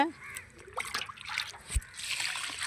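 Onion-soaked liquid is poured from a can onto garden plants, giving soft irregular trickles and small splashes in brief bursts, fairly faint and close.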